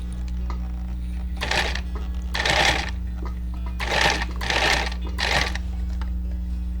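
A sewing machine stitches together the underbelly of a fabric pony toy in short bursts: four or five runs of rapid needle chatter broken by pauses, each up close and loud over a steady low motor hum.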